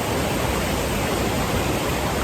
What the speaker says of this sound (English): Came to a little bit of a waterfall.